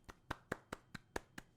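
Hands clap seven times in an even, brisk rhythm, each clap sharp and close, with no voices in between.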